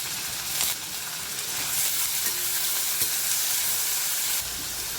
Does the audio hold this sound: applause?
no